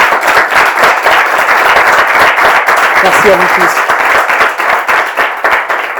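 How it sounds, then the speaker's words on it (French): Studio audience on a French-language talk show applauds its own speakers in a dense, even burst of clapping, while a voice speaks briefly over it. "Déjà, vous vous applaudissez pour vos interventions."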